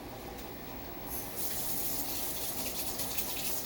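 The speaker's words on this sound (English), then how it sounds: "So let me get some water." Water runs steadily from a kitchen tap while lukewarm water is drawn for dissolving yeast to make pretzels; the gushing flow strengthens after a quiet moment and then holds a constant, close hiss.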